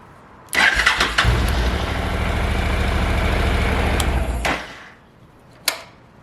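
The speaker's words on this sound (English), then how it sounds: "Let's see if the bike will start." A 2013 Honda NC700X motorcycle engine cranks and starts with a sharp burst, then settles into a steady, loud idle for several seconds before cutting off, followed by a brief click.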